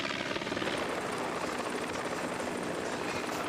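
Helicopter rotor and engine drone steadily and loudly above a cycling race climb, a continuous dense whir with no voices over it.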